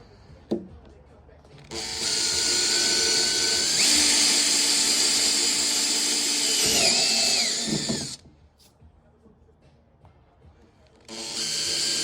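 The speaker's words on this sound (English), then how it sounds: "come back and drill them out" A power drill whines steadily for about six seconds, pitch dipping as it bites into a 2008 Harley-Davidson Road Glide saddlebag, then stops; a brief second burst starts near the end.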